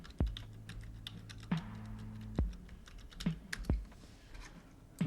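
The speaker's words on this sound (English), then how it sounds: "I didn't type the whole thing." Keystrokes on a computer keyboard, a handful of sharp, spaced clicks with a few quicker taps between them, close and fairly quiet over a faint low hum.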